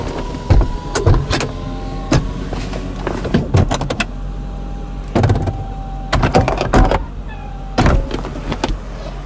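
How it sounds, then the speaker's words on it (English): The power convertible top of a 2002 Mercedes-Benz SL500 whirs and clunks as it unlatches and lowers, with steady motor hum punctuated by repeated sharp mechanical clicks and thumps, close and moderately loud. "Take a listen to the top going down."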